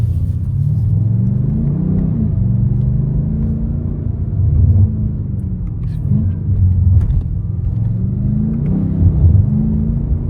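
A BMW M8 Competition accelerates from a roundabout, its engine note climbing and then dropping sharply at each dual-clutch gear shift, repeating several times as a loud, close cabin rumble with no talking.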